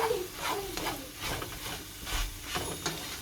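Scrambled eggs are mashed in a pan over low heat, making soft scraping and pressing strokes in an uneven rhythm above a quiet sizzle, close by and moderate in volume.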